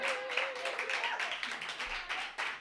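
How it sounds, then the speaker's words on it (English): An audience at an open mic night claps steadily in a dense, continuous patter of applause, fairly close, with a brief tonal whistle near the start. "Keep it clapping."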